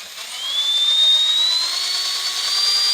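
An Axial Monster Jam Max D RC truck with open differentials runs its electric motor at full throttle, a loud high whine that climbs in pitch and holds steady for a few seconds.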